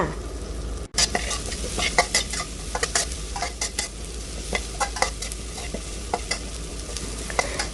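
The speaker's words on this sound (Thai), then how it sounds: "เริ่มจากการตั้งกระทะใส่น้ำมัน ลงไปเล็กน้อยค่ะ จากนั้นก็ใส่พริกกับกระเทียมลงไปค่ะ" Chili and garlic stir-fry in a little oil in a wok, making a loud steady sizzle close up with frequent scraping clicks of a spatula against the pan.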